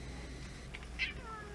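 A pet cat meows twice in short, close calls, the second louder and clearer, over a steady low hum of indoor background noise.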